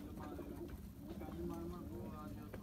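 Soft, low pigeon cooing repeats continuously under a steady outdoor hum, fairly close, with faint murmuring in the background.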